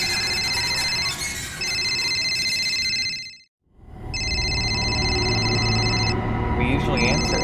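A telephone rings in a horror video game and goes unanswered, its bright electronic trill repeating in long bursts with a brief gap midway, while people talk over it.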